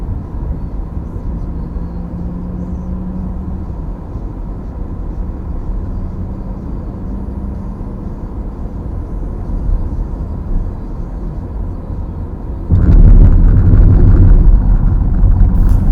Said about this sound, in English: The cabin noise is okay.